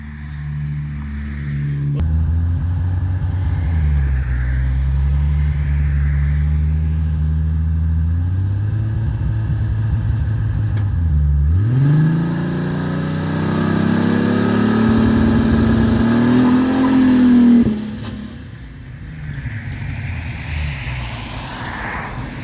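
The engine of an 800HP Trailblazer sleeper build revs up to about 4,500 RPM in several long pulls, rising and falling loud and close before settling back to idle.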